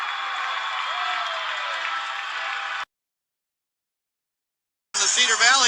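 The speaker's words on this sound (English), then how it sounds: "And the crowd erupts." A junior hockey arena crowd roars after a fight on the ice, a dense, steady wash of cheering for nearly three seconds, then sudden silence before crowd noise and a voice return.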